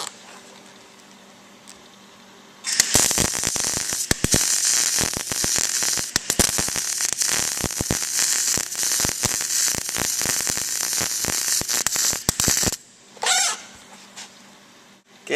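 A welder runs a bead on thin exhaust pipe metal, a loud steady crackling buzz with rapid irregular pops lasting about ten seconds, then a brief second burst after a short pause, with quiet hum before and between.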